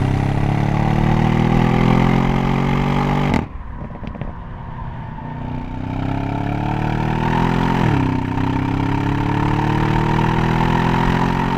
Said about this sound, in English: one of the first things that you're going to notice is something you can't get in that Tesla of yours, and that's this excellent V8 engine note